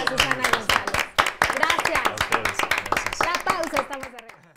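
A studio audience on a Mexican television entertainment programme applauds in bursts of sharp clapping, loud and close, with a presenter speaking over it throughout.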